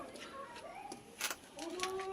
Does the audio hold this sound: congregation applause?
no